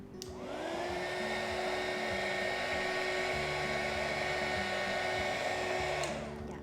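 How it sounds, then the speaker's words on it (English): A hot air gun blows steadily to soften the surface of candle wax for a crystal candle, spinning up at the start, holding a loud, even whirring hiss for several seconds and cutting off near the end. "you might want to use the hot air gun again"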